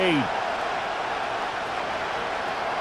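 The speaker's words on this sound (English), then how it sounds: "this crowd making it hard to hear" A steady stadium crowd roar during a 49ers vs Seahawks divisional playoff game in Madden 26: a broad, constant wash of distant cheering that holds level throughout.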